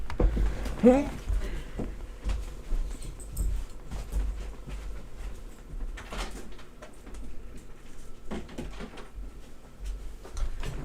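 A dog whimpers a few times in a room, with high whines near the start among scattered knocks and household shuffling.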